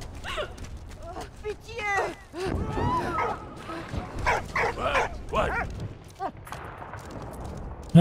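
A dog barks, yips and whimpers in the World War I video game Valiant Hearts: The Great War, in short excited bursts among game effects, with a voice talking at times.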